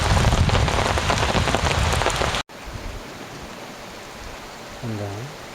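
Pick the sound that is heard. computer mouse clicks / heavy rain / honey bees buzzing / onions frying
heavy rain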